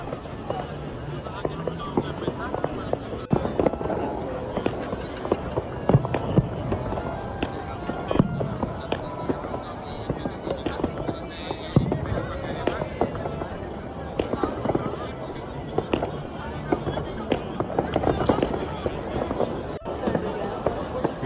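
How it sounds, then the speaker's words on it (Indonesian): Continuous crackling and popping of New Year's Eve fireworks bursting at a distance across a river near the Chain Bridge in Budapest, Hungary, mixed with the murmur of a crowd and people talking nearby. "Di sana kembang apinya nggak habis-habis guys, di seberangnya Chain Bridge."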